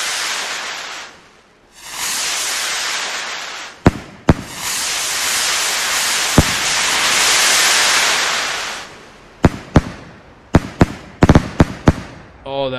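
Fireworks sounds from a video game mod: long hissing, crackling bursts punctuated by sharp bangs, with a rapid cluster of loud pops near the end.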